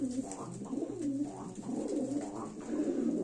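Iraqi Sharabi pigeons, a male and a female, coo close by in a steady run of soft, rolling, throaty calls that overlap with no pauses.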